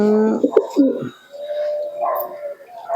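Pigeons of tippler, Andra and Madras breeds coo close by in a Nabadwip loft, a few throaty rolling calls followed by a lower sustained coo with little talk.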